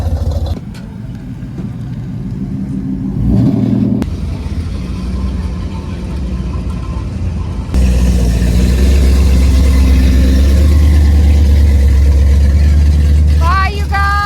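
A loud truck engine rumbles steadily, growing heavier and deeper partway through and holding a constant drone, while people talk nearby outdoors.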